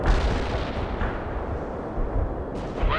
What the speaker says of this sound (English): Launching a smoke missile.